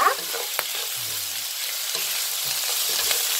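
Squid and carrots stir-fry over high heat for Korean spicy squid, giving a steady loud sizzle. Scraping and clacking from stirring sound close by throughout.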